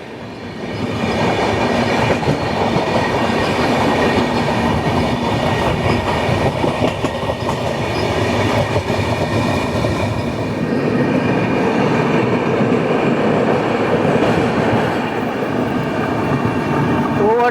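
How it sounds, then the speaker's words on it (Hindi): The Ahmedabad Howrah Superfast Express overtakes on a parallel track, heard from aboard a moving train. Wheels rumble and clatter loudly and continuously, with rhythmic clickety-clack over rail joints. "Overtaking Ahmedabad Howrah superfast express."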